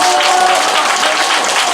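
Loud, dense applause from a talk show audience, steady clapping throughout with no pause, close and filling the space.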